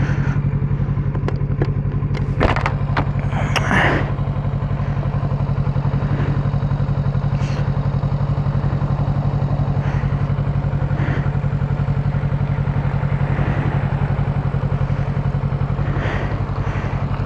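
A Honda CBR motorcycle cruising on a road on a cold day, its engine droning steadily and loudly throughout with wind noise and a few brief clatters early on.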